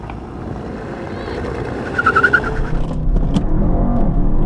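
Mercedes-AMG GT S 4-Door and E63 S drag racing side by side, engines droning steadily and then swelling into a louder revving surge as they accelerate away, heard from nearby with rushing wind.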